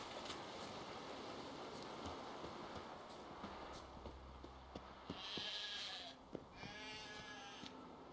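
Sheep bleating in the video game Witcher 3, heard over a steady rumbling game ambience with some scattered clicks and a brief brighter burst near the end; no speech.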